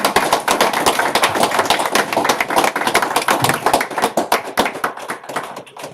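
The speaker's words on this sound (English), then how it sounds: "let's give him another round of applause." Applause from the audience at a city council meeting, sharp individual hand claps rattling fast and close, uneven and lively throughout with a few louder standouts near the end.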